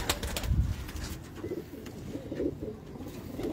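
A loft of breeder and high-flyer pigeons coos in low rolling calls, several soft repeated phrases nearby over background hum, with no voices.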